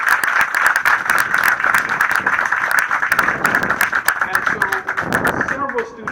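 Audience applause at the Tyler Hall groundbreaking ceremony, with a dense wash of steady clapping and a few loud claps standing out near the front, plus a voice speaking over it.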